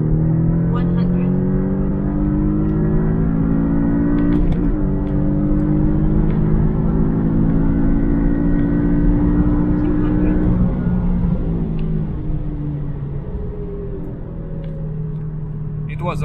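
Porsche 718S (982) with a RaceChip tune on its most powerful map pulls hard from 100 to 200 km/h in third and fourth gear, the engine rising in a loud sustained climb with a brief dip at a shift midway.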